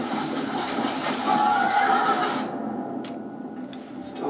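Horses neigh amid a noisy crowd and clatter in a Vikings TV episode, a loud blended whinny over the first half that falls away to quieter background with a couple of sharp clicks.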